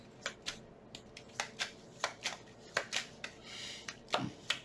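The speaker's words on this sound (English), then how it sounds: "Okay, one more shuffle," A deck of tarot cards is shuffled by hand in a run of quick riffling bursts with a steady rhythm, close and fairly quiet, with no talking.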